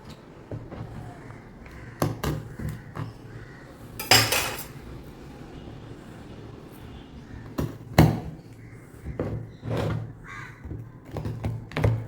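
Jackfruit seed chikki being cut on a plate, with repeated sharp clinks and scrapes of a utensil against the dish at irregular intervals, close and fairly loud, with no talking.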